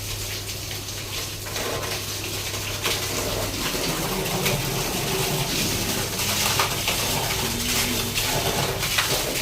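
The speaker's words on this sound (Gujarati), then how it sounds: "વરસાદ એટલો આવે છે તો આખી ઓસરી પલળી ગઈ છે હોતી।" Heavy rain drenching a house veranda, a dense continuous hiss and splatter of water close by, steady throughout with a faint bird call in the background.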